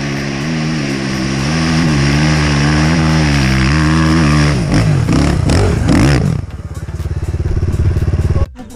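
A motorcycle engine runs close and loud, a steady harmonic drone that wavers in pitch, then revs and rattles before cutting off abruptly near the end.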